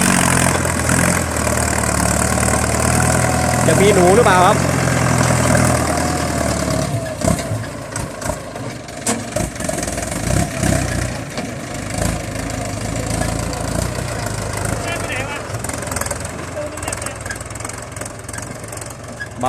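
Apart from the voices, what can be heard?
Ford 6600 tractor engine running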